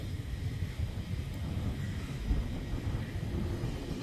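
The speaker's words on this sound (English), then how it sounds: "I've never seen a train so big in my life. And look at all the boxcars." A huge freight train with many boxcars rolls past in the distance, a low continuous rumble and rattle mixed with wind noise on the microphone, steady throughout without talking.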